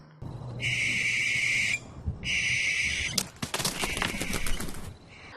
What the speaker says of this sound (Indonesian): mendengar suara burung hantu yang menjerit